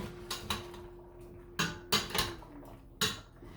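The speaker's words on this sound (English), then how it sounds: "Give it a nice good stir." Shrimp boil stirred in a pot, a spoon knocking and clanking against the metal in several separate bursts with quiet gaps between, close and clear with no talking.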